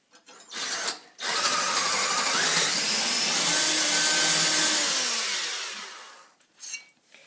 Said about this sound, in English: you have to drill a hole right here 2 centimeters in so the bolt